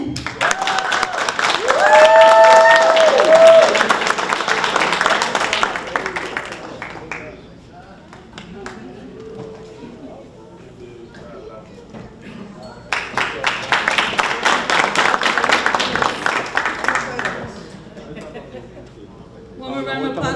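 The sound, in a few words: audience applause at graduation ceremony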